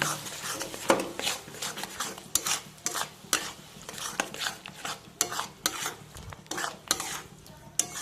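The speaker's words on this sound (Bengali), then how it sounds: "1 চামচে দেবো কাঁচা লঙ্কা বাটা। দিয়ে ভালো করে কষিয়ে নেব।" A pan sizzles as a spice paste with green chilli paste fries and gets stirred for a Bengali-style bhetki fish curry. A spoon scrapes and clicks against the pan in a repeated, uneven rhythm, close by and moderately loud.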